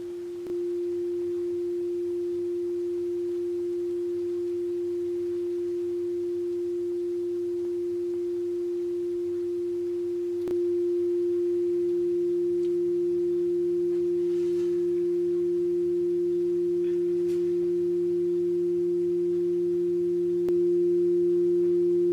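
A Hofler tube thermoacoustic engine with a heated steel wool stack hums a steady, pure, sustained tone, joined partway through by a fainter lower second tone, continuous and clear with no talking.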